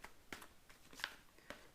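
A deck of oracle cards is shuffled softly by hand, with faint, quick papery riffles and slides repeating several times at close range in a quiet room, no talk.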